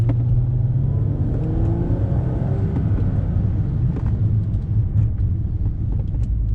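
A Volvo S60 T6 with a deep, throaty exhaust runs with a steady, loud, low rumble that barely rises or falls, heard up close with no talking.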